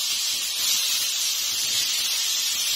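Chopped cabbage frying in a pan, a steady bright sizzling hiss that runs unbroken throughout, close and even, with no voices.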